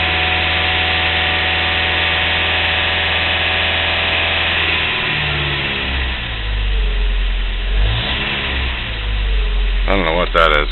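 A car engine idles with a steady low hum that shifts partway through into a rougher, shuddering vibration, like it drops into a second stage, with a brief whining tone near the end.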